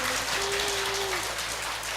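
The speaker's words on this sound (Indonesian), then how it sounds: "Tepuk tangan dulu." Audience applause fills a ballroom at an Islamic study gathering, a steady, even wash of many hands clapping for a couple of seconds.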